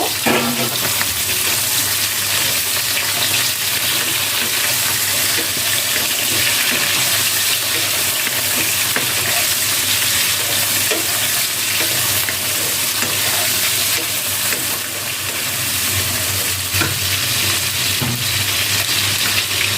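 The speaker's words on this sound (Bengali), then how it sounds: "এরপর আমি মাংসটা একটু তেলে ভেজে নেব" Chicken meat frying in oil in a home kitchen, a steady loud sizzle with stirring scrapes throughout, close up and continuous with no talk.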